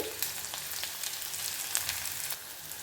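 Mustard seeds and chopped onion fry in hot oil with a steady soft sizzle and a few faint crackles and pops, close and fairly quiet, no talking.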